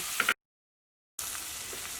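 Onions sizzle in hot oil in two short bursts, separated by nearly a second of dead silence.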